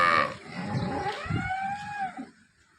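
Cows at a farm where milking cows are kept, one drawn-out, close moo with a rising and falling pitch, over faint background noise and nothing else.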